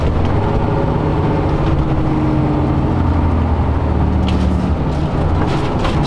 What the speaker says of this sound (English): Now I'm going to try out the exhaust brake.